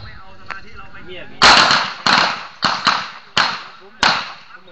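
Glock 19 pistol fired on a shooting range test, five sharp loud shots at irregular intervals of about half a second to a second, with quieter background voices before the first shot.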